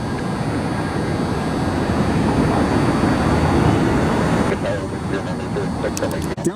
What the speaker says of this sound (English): Cessna right behind me, flying just south of the highway here.